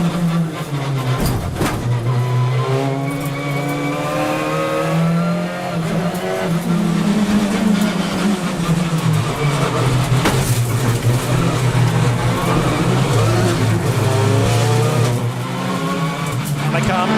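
BTCC touring cars race at Knockhill, engines loud and continuous with rising and falling harmonics as several cars accelerate and pass, brief tyre squeal amid the roar, under a commentator's voice.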